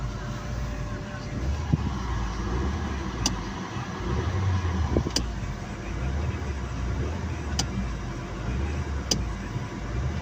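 A car engine idles to warm up after snow, a low steady rumble with occasional faint clicks and thumps, and a person talks now and then.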